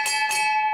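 A bell rung to celebrate a veteran's job offer, with two quick strikes close together and a steady ringing tone that lingers afterward.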